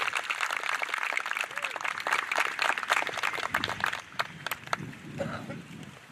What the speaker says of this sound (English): I would like to give my fellow graduates a round of applause